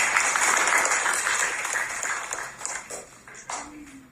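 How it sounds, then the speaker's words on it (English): Audience applause for students and graduates at a school ceremony, a moderate steady patter of clapping that thins out toward the end, with a faint tone near the close. "Can you please give them a round of applause?"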